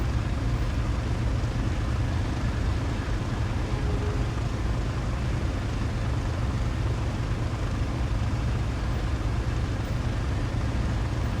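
A World War II fighter plane taxiing on the ground in IL-2, its damaged engine giving a low, steady droning rumble that holds evenly and fairly loud throughout.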